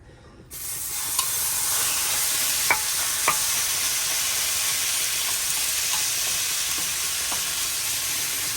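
Pork sizzles in its own rendered fat in a hot pan for dinuguan, a loud steady hiss that starts suddenly and carries on with a few light clinks of stirring.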